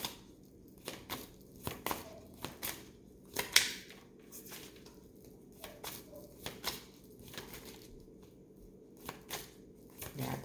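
Tarot cards being shuffled by hand, quiet repeated riffles and soft papery taps in irregular bursts, close and faint with no talk.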